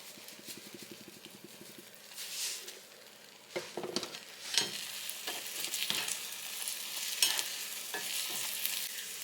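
An egg seasoned with onion powder and black pepper is scrambled in a frying pan beside bacon, giving a steady close sizzle, with rapid light tapping at first and then clacking spatula strokes scraping the pan.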